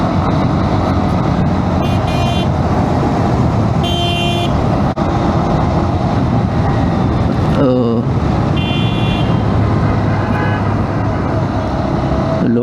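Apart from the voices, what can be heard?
vehicle horn honking in road traffic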